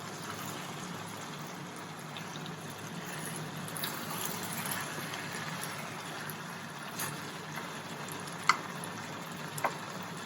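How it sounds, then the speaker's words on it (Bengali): Chicken pieces for butter chicken frying in a pan make a soft, steady sizzle that stays faint and even throughout, with a couple of small pops near the end. "দেখুন একটু করে ভাজা ভাজা হয়ে যায় একটা পিস।"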